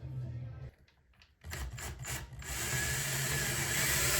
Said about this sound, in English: I'm gonna hold it up and drill into here.